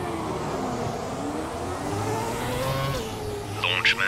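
F1 cars in the F1 2017 racing game pulling away for the formation lap, a steady blended engine drone with a rising whine, a brief tire squeal near the end.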